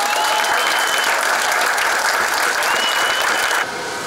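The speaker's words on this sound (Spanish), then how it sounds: "Démosle un gran aplauso." An audience breaks into sustained applause for a young parkour athlete invited to the World Championship in Japan. The dense, loud clapping holds steady, then drops to a quieter level near the end.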